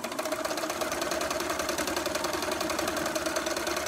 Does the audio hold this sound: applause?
no